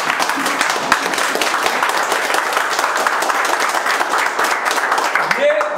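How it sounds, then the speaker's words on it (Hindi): An audience applauds loudly and continuously at an indoor training session for a mobile network repair class, a dense steady roar of clapping filling the whole stretch, with a voice speaking near the end. "एक बार खड़े होके MD सर के जोरदार ताली बजाइए।"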